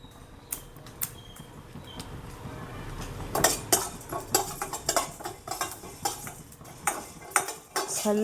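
Coriander seeds dry-roasting in a pan and stirred with a spoon, giving repeated scraping and clinking strokes of moderate loudness over a faint sizzle.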